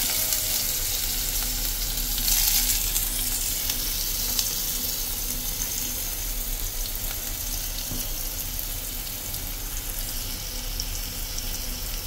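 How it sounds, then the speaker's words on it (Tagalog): Ginger frying in hot cooking oil in a pan, a steady close sizzle and crackle that runs the whole time, with a brief louder burst early on and faint stirring. "mainit na yung mantika natin. Ilalagay ko na yung ating luya,"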